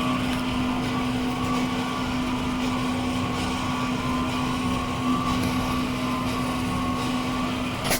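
Steady electric ink pump humming on a Focus Nebula 42F DTF printer while pumping white ink, a constant close drone with a fixed tone and no pauses throughout.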